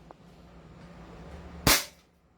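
A 2011 Hi-Capa airsoft pistol fires one sharp, loud shot close by, preceded by faint handling noise and followed by quiet.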